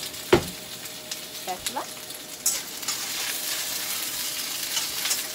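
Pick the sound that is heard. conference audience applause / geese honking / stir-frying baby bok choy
stir-frying baby bok choy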